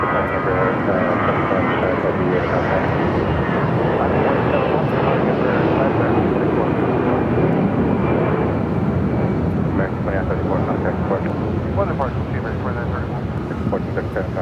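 An American Airlines A320 takes off at Phoenix airport, its engine roar steady and loud for the whole stretch while someone talks over it.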